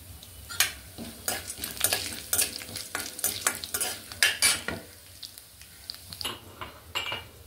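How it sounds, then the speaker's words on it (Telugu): Chana dal is stirred in a pan on the stove, with repeated close scraping strokes and light sizzling arriving in uneven bursts. "ఫస్ట్ శనగపప్పు వేసుకుంటున్నాను."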